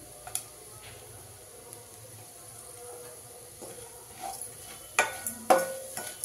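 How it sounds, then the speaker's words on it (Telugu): Coriander powder is stirred into a bitter gourd and tamarind curry in a pan: a soft sizzle with scraping spoon strokes, and a few sharper clinks near the end. "స్పూన్ ధనియాల పౌడర్, ఒకసారి కలుపుకుందామండి."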